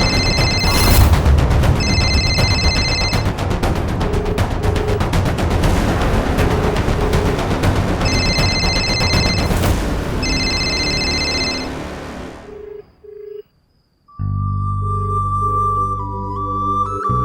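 A telephone bell rings in repeated bursts over loud, dense background noise, then the scene cuts to quieter sounds near the end.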